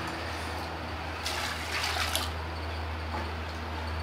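Water is poured generously into a handmade floor-tile mix, a soft continuous trickle and splash over a steady low hum, faint and without talk.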